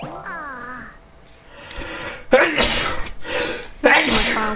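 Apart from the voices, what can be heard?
sneeze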